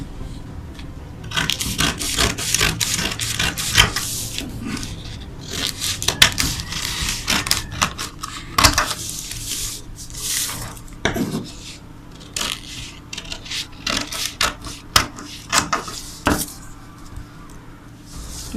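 Scissors slicing and scraping through fabric pieces for a baby dress on a work surface, with repeated crisp snips and rustling handling of the cloth, sometimes clustered, sometimes spaced apart.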